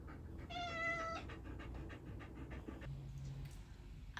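A house cat lets out a short, soft meow early on, followed by faint panting or breathy animal sounds in a quiet room.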